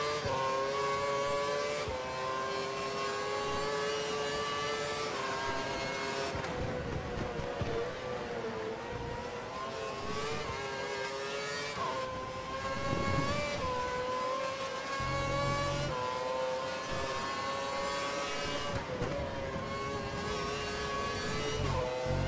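Formula 1 race car engines in the F1 2012 racing game during a German Grand Prix qualifying session, a loud continuous high-pitched whine that rises and falls with gear changes throughout, with no talking.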